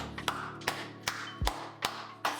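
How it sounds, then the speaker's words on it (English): Hand claps land one at a time in a steady, unhurried rhythm, six or so sharp slaps, close and moderately loud, with no talk over them. "Come on, y'all give me a hand clap too."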